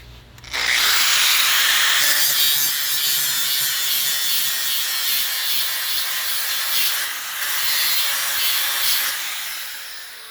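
A grinder blends a weld on a metal deck rail, starting abruptly and then holding a loud, steady abrasive whine with a brief dip midway before it tapers off near the end.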